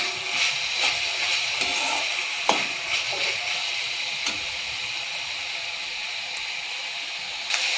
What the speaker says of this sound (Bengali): ভালোভাবে নেড়ে নেব।